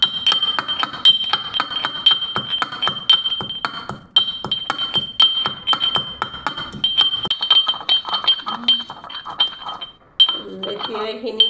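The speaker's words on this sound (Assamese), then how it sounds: "খুন্দনাটোত মই তুলসীৰ পাতখিনি এনেদৰে পিচি লৈছোঁ" Tulsi leaves pounded in a mortar with a pestle give a rapid, steady run of sharp clinking strikes, close and fairly loud, with a brief pause near the four-second mark and a softer stretch toward the end.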